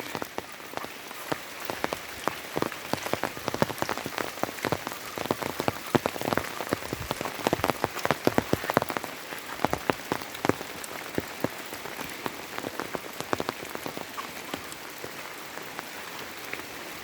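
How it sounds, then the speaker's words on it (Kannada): Steady rain patters densely on a surface, a continuous crackle of drops without voices. "ಈಗ ಮಳೆ ಬರ್ತಾ ಇದೆ."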